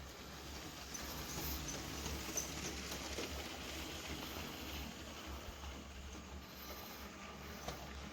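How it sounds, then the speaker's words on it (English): A Lego City Cargo Train 60198, a toy train, runs along its plastic track with a faint steady low rumble and soft clicking, heard quietly and alone. "And there goes your train."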